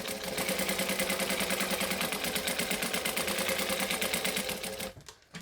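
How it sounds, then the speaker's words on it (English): A sewing machine runs a decorative stitch down each side of a sea-goddess appliqué, its fast, regular needle clatter loud and steady for about five seconds before stopping abruptly. "I'm going up to my decorative stitch length. And I'm going to stitch down each side in the center"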